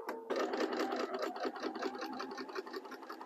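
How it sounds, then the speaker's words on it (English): A sewing machine back-stitches over fabric at a high-tension seam to reinforce it, giving a steady, close, rapid mechanical whir and needle chatter throughout. "I am going to just go ahead and back sew over that just to give it a little bit of extra reinforcement before I go ahead and end my stitch."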